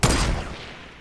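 Fortnite battle royale gunfire: a close, loud volley of shots in the first half-second, then decaying echo fading out over the rest of the moment, no talking.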